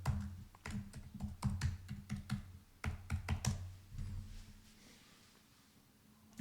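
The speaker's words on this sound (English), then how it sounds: "type in my password" Keys clatter on a computer keyboard as a password is typed, a quick irregular burst of close, crisp taps with short pauses, then a quiet tail.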